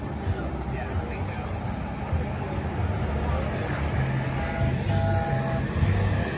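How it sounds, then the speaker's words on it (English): A train passing near an outdoor car meet, a continuous rumbling roll with faint horn-like tones partway through, moderately loud and steady under a background of crowd and vehicle noise. "We got the train."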